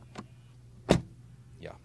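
A BMW SUV door swings shut with a single solid thump near the middle, preceded and followed by fainter clicks and a soft whirring latch or window motor sound, close by and quiet overall.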